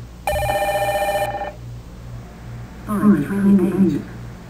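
A telephone rings in a keypad memory test app, a loud electronic bell tone lasting about a second. Someone talks throughout, and a second brief warbling ring follows.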